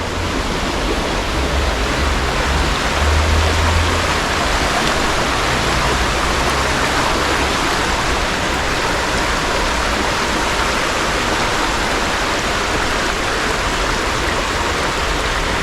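Rushing water from a waterfall or stream after rainfall, a loud, steady, broadband roar close by that stays unchanged throughout with no voices.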